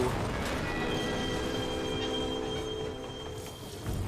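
Rumbling rail noise from a train in Final Fantasy XIV, a steady low rolling roar with a thin high whine layered on top, holding at even loudness before dipping slightly near the end.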